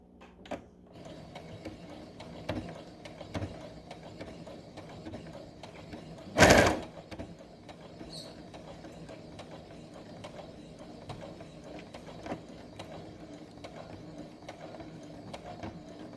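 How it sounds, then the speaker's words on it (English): A sewing machine stitches a bow pillow with a steady, close mechanical whir that runs throughout, broken by one sharp thump partway through. "now we are going to start the sewing process"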